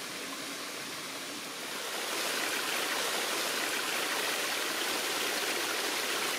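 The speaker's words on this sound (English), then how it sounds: "The relaxing effect of lightly splashing water in a green forest" A small forest waterfall dropping gently off a ledge gives a continuous soft splash and babble, rising a little after the first couple of seconds and then holding steady, with no voices.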